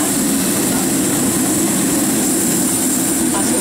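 Loud, steady airplane engine roar inside the cabin during boarding for a flight to Fortaleza, a constant broadband rush with a high whine on top and no pauses.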